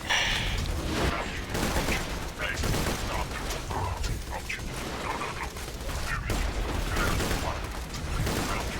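Rapid bursts of gunfire and booming weapon blasts from the video game Borderlands 2, dense and loud throughout, with a voice speaking over the action.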